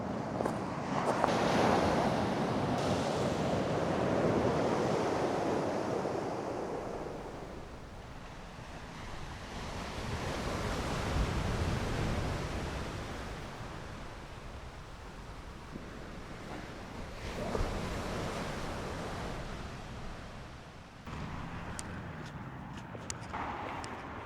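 Stormy wind and crashing sea waves on the French coast on a cold day, a continuous roaring surf with gusts buffeting the microphone, rising and falling in loud swells, with no talking.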